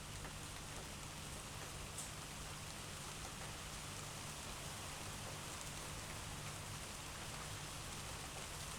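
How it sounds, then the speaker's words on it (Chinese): Light rain falls steadily near Baimo Cave in Bama, Guangxi, a soft even hiss of drops with no break and no voices. "下着小雨"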